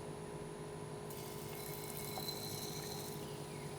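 Water runs steadily, rinsing out a container used for lawn marking dye; a soft continuous flow that brightens into a louder hissing splash partway through, with no voice.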